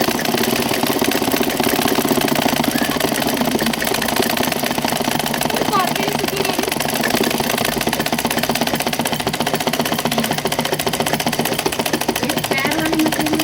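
A sewing machine stitching a Patiala salwar, run faster: a loud, continuous rapid mechanical chatter that stays steady and close throughout, with a voice talking faintly under it.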